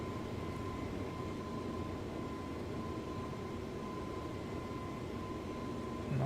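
Steady, even roar of an airliner climbing out after departure from London Heathrow, heard as a continuous broadband cabin drone with a faint whine and no voices.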